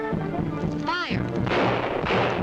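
A volley of rifle fire in a jungle adventure radio serial, dense sustained gunshots over a continuous busy background with a brief tonal sweep in the middle, loud and close.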